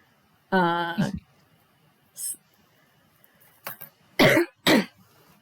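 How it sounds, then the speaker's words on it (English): Several short, sharp coughs, one pair in quick succession, follow a brief vocal sound, with quiet pauses between them. "Sorry for the coughing."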